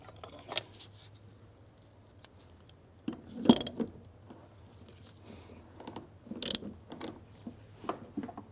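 A hand tool snugs down the fuel pump module lock ring on a 2009-2015 Honda Pilot, giving scattered close clicks, scrapes and ratcheting knocks with a couple of sharper metallic snaps, over a low steady hum.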